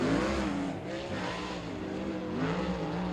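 Race cars at I-30 Speedway's Short Track Nationals heat race roar up to speed on the green flag, a continuous loud engine drone with rising revs and overlapping cars, steady throughout with no talk.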